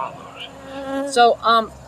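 Bees from a beehive left open for close to an hour on a farm drone and buzz close by, with a couple of louder, higher-pitched passes sweeping near.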